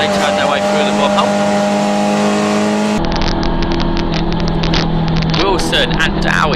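Two Ford Fiesta XR2 race cars pass under a bridge at Snetterton in a classic hatchback race, engines droning steadily then shifting to a lower, buzzing rasp with rapid gear-change pulses, under a commentator's voice.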